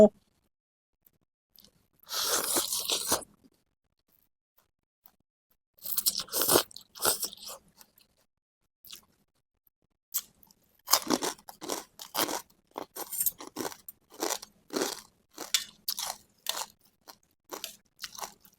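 Close-up crunching and chewing of rice noodles in fermented fish sauce with pork sausage, cha-om, morning glory and blanched cabbage: short bursts of crisp bites, then a long run of steady, rhythmic chewing with quiet pauses.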